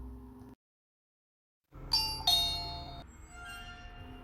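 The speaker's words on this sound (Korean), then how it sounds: "현관문 밖에서 들리는 초인종 소리" A two-tone ding-dong from a front-door doorbell rings out after a moment of silence, with the chimes sounding close and bright before fading into a lingering hum.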